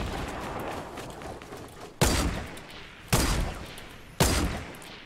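Three sharp, loud gun blasts in Fortnite go off about a second apart, each ringing out over a constant rumble of distant battle noise.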